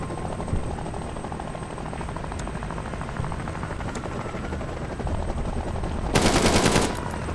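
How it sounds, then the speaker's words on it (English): Enemy gunfire in Door Kickers 2, a top-down tactical shooter game, crackles under a constant droning engine hum, with a few sharp isolated shots and a louder burst near the end. "there's a dude shooting there"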